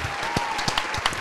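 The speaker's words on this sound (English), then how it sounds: "Slight clap." Light, sparse clapping from a small group in a talk-show studio during a 420 special episode, a few quick claps over a steady hum, with brief bursts of background voices.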